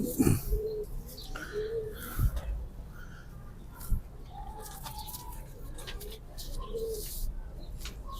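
Pigeons of the Sabz Chena breed coo repeatedly in soft, low rolling calls, fairly close, with faint chirps and scattered bumps in the background.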